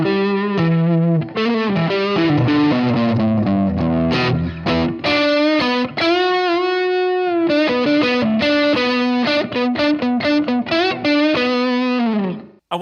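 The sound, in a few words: electric guitar through Blackstar Debut 50R amp with reverb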